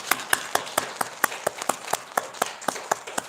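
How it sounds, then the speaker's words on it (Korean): A church congregation claps together in a steady, evenly spaced rhythm, each clap crisp and fairly loud, with no talking. "이렇게 큰 믿음 주신 하나님께 영광의 박수 드립니다."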